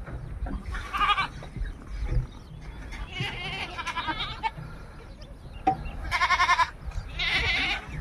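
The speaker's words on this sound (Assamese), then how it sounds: "এইখিনি ছাগলী মতাৰ লগে লগে ইয়াত দৌৰি গুচি আহিছে।" Dairy goats on a goat farm in Majuli bleat repeatedly, several loud close calls in bursts over a background of rustling and movement, with no talking.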